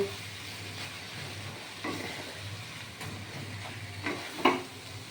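Cabbage being stirred as it fries in a pan with a dusting of flour, a soft steady sizzle broken by occasional scraping strokes, close and fairly quiet with no talking.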